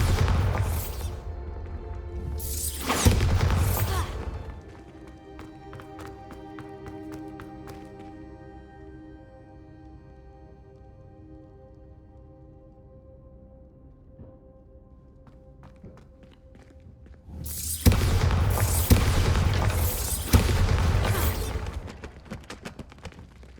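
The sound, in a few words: Bombarda and Confringo spell explosions in video game Hogwarts Legacy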